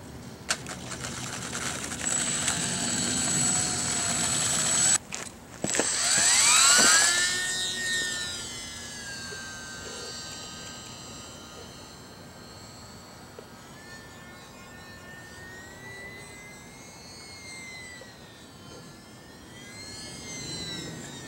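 A small radio-controlled UMX Sbach model airplane flies overhead, its electric motor buzzing in a high whine that rises and falls as the throttle changes, loud at first and then fainter and wavering as it moves around.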